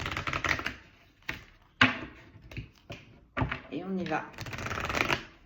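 A deck of tarot cards is shuffled by hand in repeated quick riffling bursts, crisp and close, separated by short pauses, while someone speaks briefly between them.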